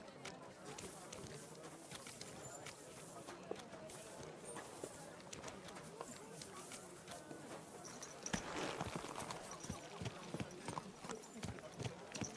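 Horse hooves clip-clop steadily while riding in the video game Kingdom Come Deliverance 2, a continuous rhythmic trot under game ambience with birds faintly present and voices talking over it.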